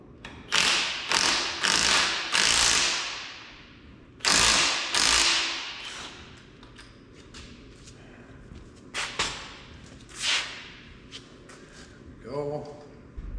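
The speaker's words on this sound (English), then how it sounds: "Steering wheel off." A car steering wheel being taken off a column during a custom steering column job: several loud metallic clanks, ratcheting clicks and thuds in bursts, close by, with a short rattling scrape near the end.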